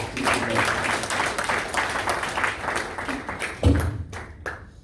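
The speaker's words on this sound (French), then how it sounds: "Applaudissez le Seigneur." A church congregation at a Nazarene Sunday service applauds for a few seconds, moderately loud, and the clapping thins out and fades toward the end.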